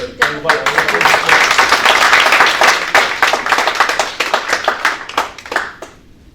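A crowd at an association's general assembly claps steadily in sustained applause, dense and lively, tapering off toward the end with a few scattered claps.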